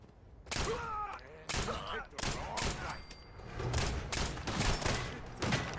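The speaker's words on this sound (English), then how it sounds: "the molly did AoE explosion, which set off the car" In Fallout 4, a molotov's area blast sets off a car: a string of loud, sharp explosive bangs and bursts in quick succession, with a faint voice mixed in.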